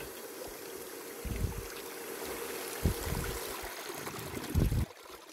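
A water pump runs, washing gravel out from under a spot in a small gold-prospecting stream, giving a steady rushing, trickling flow with a few louder splashing bursts over a low hum.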